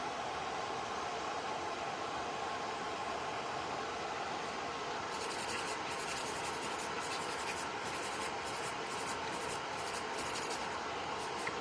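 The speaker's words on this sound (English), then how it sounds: "and file the surface" A hand file rubbing across a hybrid gel nail surface, a faint scratchy scraping that turns into quick repeated strokes in the latter half over steady background hiss.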